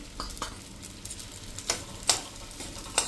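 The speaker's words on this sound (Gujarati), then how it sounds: "તો આપણું ઘી ગરમ થઈ ગયું છે, તો આપણે આ પલાળેલા સાબુદાણાને એમાં ઘીમાં થોડાક રોસ્ટ કરી લેશું।" Soaked sago pearls roasting in hot ghee: a soft, close crackle with several light clicks and scrapes of a spoon stirring against the pan, spaced unevenly, and no voices.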